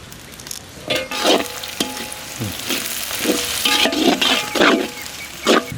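Onions sizzle and crackle in a hot pan with turmeric and salt added, with a few stirring scrapes and bursts of frying noise, close up and without speech.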